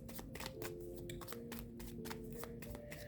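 Tarot cards being shuffled by hand in quick repeated riffles and slides, crisp papery bursts close up at a low level with no talk.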